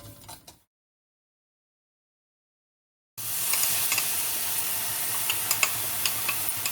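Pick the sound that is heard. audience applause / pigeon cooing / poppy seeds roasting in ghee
poppy seeds roasting in ghee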